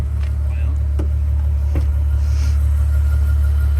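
A car with an exhaust valve idles with a deep, loud rumble punctuated by a few short throttle blips, while people talk over it close by.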